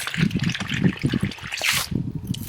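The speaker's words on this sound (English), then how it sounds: "So we would simply open a tap like this" Water runs from an opened irrigation pipe tap feeding flood-irrigation channels in a field, a short close-up of gurgling, splashing flow.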